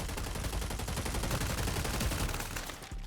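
Rapid continuous gunfire from an Apex-style shooter video game, dense automatic bursts rattling without pause for about three seconds at moderate level, with no speech.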